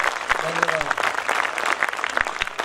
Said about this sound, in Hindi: आप सभी लोग पूरा सदन तालियों से इनका अभिवादन कीजिए।